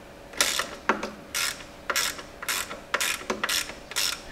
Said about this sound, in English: Now I'm going to go and tighten up the tensioner.